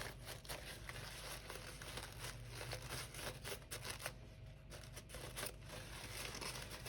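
Layered paper skirts of a large handmade flower-holder doll rustle and crinkle steadily as they are handled, a close, soft, continuous papery rustle with no talking.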